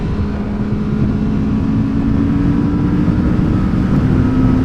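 Kawasaki Vulcan S motorcycle cruising on a highway in top gear at around 5,000 RPM: a constant engine drone with a steady tone, buried in heavy rushing wind noise the whole time.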